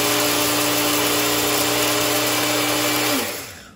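Electric grinder whirring through coffee beans at close range, a loud steady motor hum that runs for about three seconds and then winds down.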